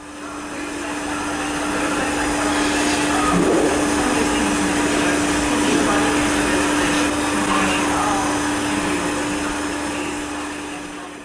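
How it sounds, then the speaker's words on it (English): A machine grinds the label recess into a Soundeck PM platter mat, a steady loud whirring drone with a strong constant hum, holding evenly for about eleven seconds with no talk. "the machine grinds the recess for the record label area"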